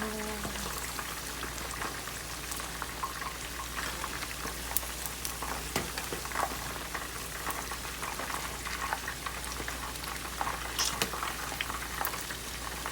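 Meat sizzling in a pan, a steady crackling hiss with scattered pops and spits throughout, moderately quiet and close, with no talking.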